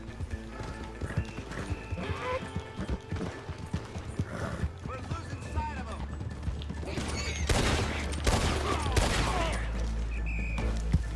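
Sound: horse hooves and gunfire in Red Dead Online video game

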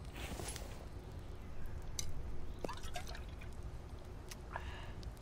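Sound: collecting water in a video game, The Infected

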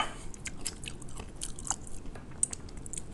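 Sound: chewing raw drunken crab

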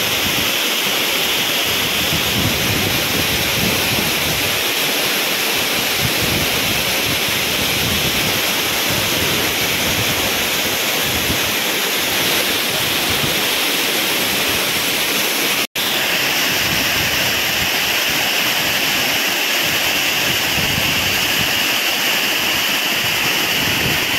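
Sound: Areekal waterfall in Pampakuda, Muvattupuzha

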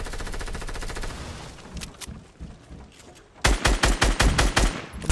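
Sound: gunfire from a shooter video game

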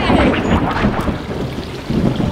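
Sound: thunder

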